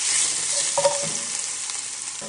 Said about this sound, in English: in my pot, I have 4 pieces of bacon, which I am frying.